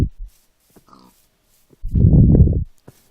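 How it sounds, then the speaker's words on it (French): Pigs in a Minecraft hardcore survival game grunt and oink in one loud, close burst lasting under a second, after a short low grunt at the start and some faint scattered game noises. "on entend des cochons mais on n'entend pas ce qu'on veut"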